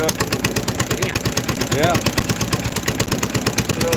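A small four-stroke single-cylinder engine with a throttle governor and two valves, just choked and fired up, idles with a steady rapid pulsing close by while a person speaks briefly over it.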